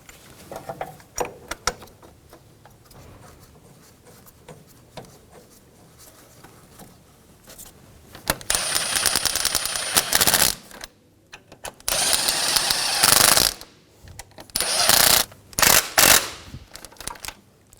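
Bolts being snugged down on the front left engine mount bracket of a 2013-2017 Honda Accord, several bursts of loud ratcheting in quick back-and-forth runs after quieter handling clicks.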